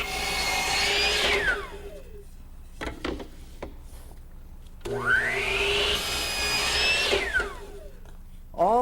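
A power saw cuts wood pieces to length in a workshop, two rising-and-falling whines as the blade spins up and bites through the stock, with quieter handling clatter between the cuts.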